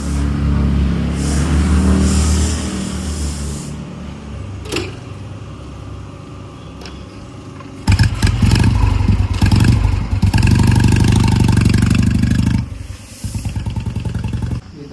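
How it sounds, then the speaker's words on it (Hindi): A Maruti 800 car engine starts up loud and close, idling with a rattling clatter before revving harder as the car pulls away and drives off. "गाड़ी को स्टार्ट करके जा रहे हैं"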